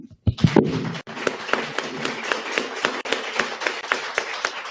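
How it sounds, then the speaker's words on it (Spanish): Audience applause closing a conversation event with an economist, a dense patter of hand claps with sharp individual slaps standing out, steady and moderately loud for several seconds after an opening thump. "le pido un aplauso"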